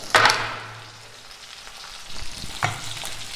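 Ingredients for a lemon peel chutney sizzle and crackle in hot oil in a pan, with a sharp burst of frying at the start and another flare-up near the end, then settling into a steady low sizzle with no talking.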